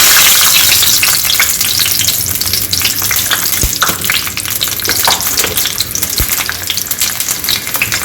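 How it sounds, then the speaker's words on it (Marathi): Garlic dropped into hot oil for a kaara chutney, a loud, close, continuous sizzle with stirring scrapes, no voices present. "इथे आपलं तेल गरम झालेलं आहे आता याच्यामध्ये आपण लसूण टाकून द्यायचं आहे"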